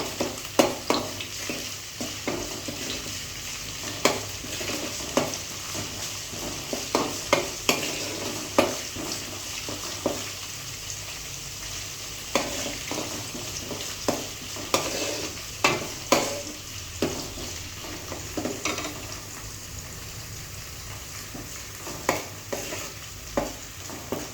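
Onions fry in hot oil with rock salt for a village-style bitter gourd curry, a steady low sizzle broken by frequent sharp scraping knocks of a spoon stirring the pan, close and without talk.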